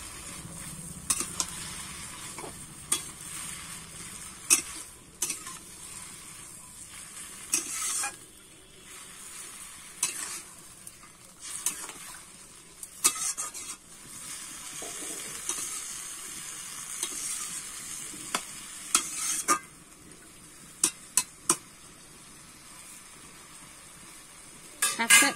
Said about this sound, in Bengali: এবারে একটু নেড়ে চেড়ে নেব।